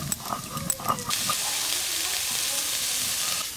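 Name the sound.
chicken mince frying and being stirred in a pan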